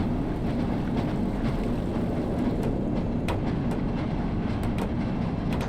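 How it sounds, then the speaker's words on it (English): Rattling and clattering physics noises from a train in Black Mesa, a dense continuous rumble with scattered metallic clicks and clanks over the rolling drone. "I do not know what is causing those physics noises. I think it's from, like, the train itself."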